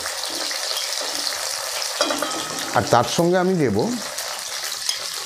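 Onion and tomato fry in a pan for a Bengali pabda fish dish, giving a steady hiss of sizzling oil throughout, while a voice speaks briefly over it in the middle.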